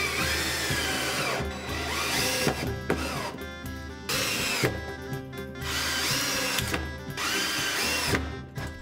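A power drill drives screws through a pallet wood offcut to join two ends, running in several loud, close whirring bursts with brief pauses between them.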